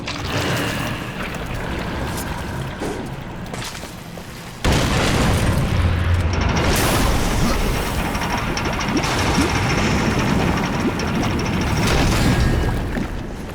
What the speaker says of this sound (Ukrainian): Так, знову треба кидати бомбу.